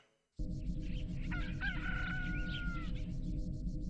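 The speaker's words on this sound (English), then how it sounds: "it's the generic rooster crowing sound" A generic rooster crow sound effect from the Chibi-Robo video game, one drawn-out cock-a-doodle-doo over a steady bed of game music, loud and close with no talking.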